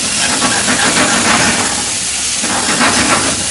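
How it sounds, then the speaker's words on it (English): Garlic and onion sauté in a hot pan on a stove, a steady, loud broadband sizzle and hiss that holds evenly throughout with no talking. "I'm going to saute this."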